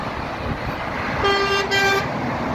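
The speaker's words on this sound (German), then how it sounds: "die Hupe" A truck on the A5 motorway near Frankfurt sounds its horn in two tonal blasts, a longer one and then a short one, over the steady rush of passing highway traffic.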